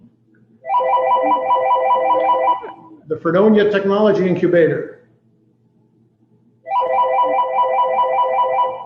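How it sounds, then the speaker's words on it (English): A telephone rings in two long, loud electronic bursts with a pause between them, and someone speaks in the gap. "there goes the phone"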